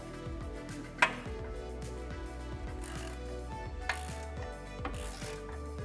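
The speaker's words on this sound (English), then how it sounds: "loosen the lower control arm nuts and bolts just so it can droop down" A ratchet loosens the lower control arm nuts and bolts on a Chevy Silverado 1500, 18 mm bolt and 24 mm nut, giving a faint, steady run of fine clicks broken by a few sharper metallic knocks.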